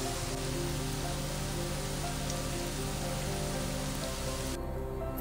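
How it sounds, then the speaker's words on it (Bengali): Onions frying on low heat in a frying pan, a steady dense crackling sizzle that fills the whole stretch and cuts off sharply near the end. "এবার আমি পেঁয়াজগুলো দিয়ে দেব। তারপরে হালকা হিটের মধ্যে এটাকে পুরোটা ভালো করে ফ্রাই করে নেব।"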